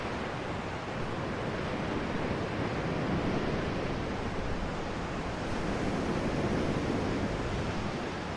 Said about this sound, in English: here with the front waves and now with the back waves that the sound is reasonably well synced with the video